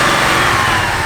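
A Chevy SS with a supercharged LSA V8 engine revs in a brief, loud and dense burst of engine roar, close and sustained without a break.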